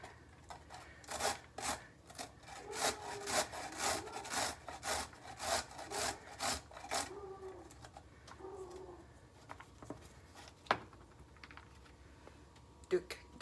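Cauliflower florets are rubbed over the largest holes of a small metal IKEA box grater. About a dozen quick, rasping strokes come in steady rhythm, then give way to sparse taps and clinks, with a faint voice murmuring underneath.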